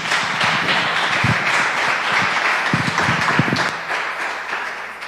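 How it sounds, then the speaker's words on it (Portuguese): A congregation claps during a church worship service, a broad wash of applause from many people in the hall, fairly loud and steady with a few sharper close claps, tapering slightly near the end. "Dê uma salva de palmas para Ele"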